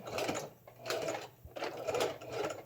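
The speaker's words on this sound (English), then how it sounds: "I'm gonna back stitch that because I felt it slide off a little bit." A sewing machine back stitching a hat, short bursts of rapid mechanical whirring that start and stop about three times, close and moderately loud, with no talking.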